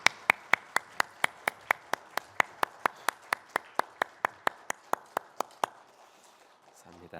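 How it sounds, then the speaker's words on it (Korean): A church congregation claps in a slow, even unison beat, about twenty sharp claps in a row that stop abruptly, leaving a quiet room. "하나님께 영광의 박수 올려드리겠습니다"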